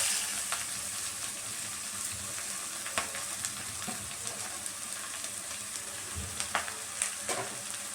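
Squeezed boiled greens for akora fry hit a pan of softened frying onions, giving a steady close sizzle with scattered crackles and stirring clicks throughout, no voices.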